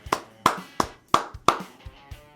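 A person imitates Travis Kelce's clap with five sharp, evenly spaced hand claps, close and fairly loud, each with a short ring, followed by a few softer taps, with no talking.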